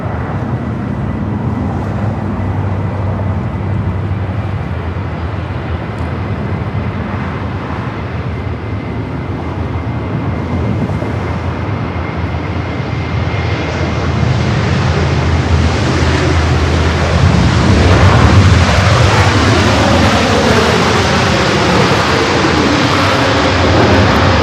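A heavy Boeing Dreamliner airliner lands on runway 24 right at LAX, its broad jet roar building steadily over steady wind and surf-like rush, growing louder and closer toward the end with a falling engine whine.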